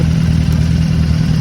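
A Royal Enfield Shotgun 650 motorcycle engine rumbles steadily close by, a loud, continuous low throb with a slight clattery edge and no voices.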